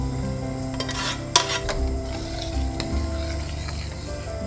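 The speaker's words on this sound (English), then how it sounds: "Give it a stir." A spoon stirs thick rajma curry in a pot, giving a low bubbling simmer with scraping strokes and one sharp clank of metal on the pot's rim, no talking.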